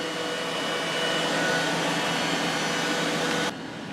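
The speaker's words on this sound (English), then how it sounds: "while Bobby the robot is vacuuming my dining room" A robot vacuum cleaner runs across a dining room floor, giving a steady, fairly loud broadband whir that holds constant for about three and a half seconds before dropping a little in level near the end.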